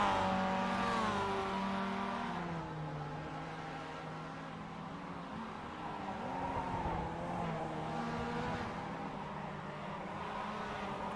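A Mazda MX-5 race car lapping the Long Beach street circuit, its engine droning steadily and loud up close, with the pitch sweeping up and down as it revs through gear changes and corners. No voices.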